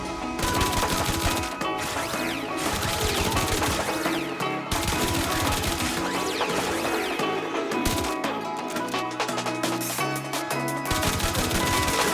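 Continuous rapid weapon fire from a charged-weapon build in Warframe, aimed at corrupted heavy gunners, forms a dense, loud, unbroken rattle of shots with brief dips. No voices are heard.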